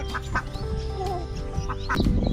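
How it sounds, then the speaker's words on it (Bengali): Ducks quacking in short bursts in a rural village yard in the morning, fairly close, with other birds chirping and a faint rustle in the background. "হাঁস ধরতে গেছে"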